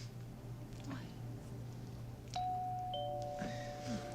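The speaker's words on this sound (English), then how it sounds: "Stop ringing the doorbell." A doorbell from the 1989 Batman film rings as a couple of electronic tones ringing on over a steady low hum, with faint voices in the background.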